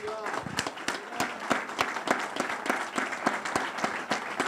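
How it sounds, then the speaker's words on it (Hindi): A standing church congregation applauds, dense rhythmic clapping that is steady and close, filling the whole stretch without a break. "हम खड़े होकर एक बार फिर तालियां बजाएंगे"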